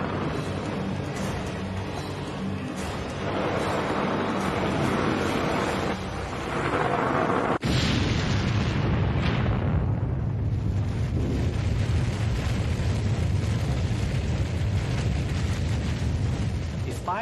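A deep, roaring missile explosion erupts partway through, then a long heavy rumble rolls on after the initial noise, loud and sustained.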